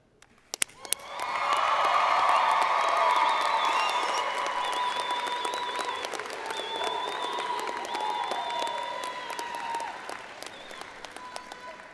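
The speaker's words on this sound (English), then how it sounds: "through your applause and your cheering and your screaming and your yelling" A graduation crowd at an agricultural sciences commencement bursts into sustained applause and cheering after a few sharp claps, a dense wash of clapping and shouts that swells, holds loud, then slowly thins.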